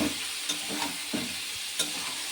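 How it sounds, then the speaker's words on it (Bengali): Fish curry masala with tomato, ginger paste, green chillies, cumin, coriander and turmeric being sautéed in a pan, a few scraping stirs over a continuous bright sizzle. "এই মশলাটা এতে যাবে তো এটা দিয়ে কষাতে থাকবো"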